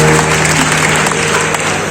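An audience at a school event for World Nursing Day claps in a brief, dense burst of applause that fades slightly at the end.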